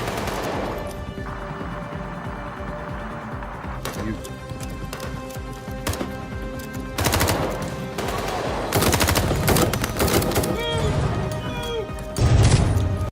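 Bursts of gunfire in a short film, with sharp shots and rapid volleys that grow louder and denser toward the end, mixed with talking voices.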